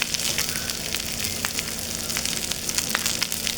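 Restaurant-bought seasoned fried rice reheating in a pan gives a dense, even sizzle with frequent small pops and crackles, close and constant throughout, with no voices.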